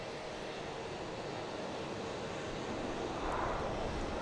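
A JetBlue Airbus A321 airliner taking off from runway 9 at Boston Logan Airport, a steady distant jet roar with some wind noise, swelling slightly near the end.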